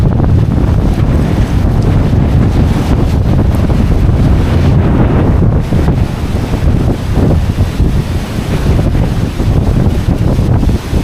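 Strong Typhoon Uwan winds lash a coastal village, a loud, continuous roar of gusts buffeting the microphone with a dense rumbling wash and no pause.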